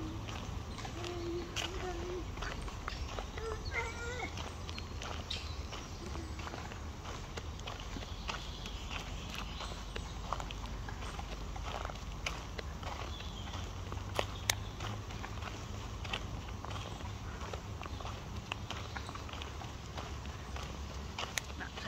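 Footsteps crunch steadily along a sheltered oak forest trail between Maarn and Doorn, a soft continuous shuffle of walking on leaves and soil with faint outdoor ambience and occasional small ticks.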